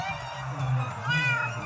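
An angry cat meows in a couple of drawn-out, close, moderately loud calls over a low background hum.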